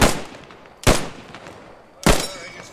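Gunfire in the World War II shooter Post Scriptum, with three loud, sharp shots spaced about a second apart, each echoing and decaying into a rumbling tail, close by and not under talk.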